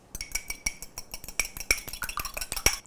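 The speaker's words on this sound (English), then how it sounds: "So I'm just gonna beat this egg." Rapid clinking of a utensil against a bowl as a single egg is beaten by hand, a steady, close rhythm of light metallic taps and scrapes.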